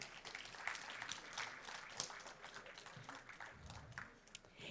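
A school board meeting audience gives a round of applause, with steady, fairly faint clapping from a crowd in a large room.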